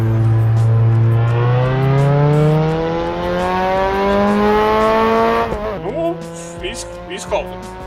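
A race car engine in the Assetto Corsa Evo driving simulator rises loud and steady through the gears, then drops and crackles on the downshift as tires squeal, with a person talking over it.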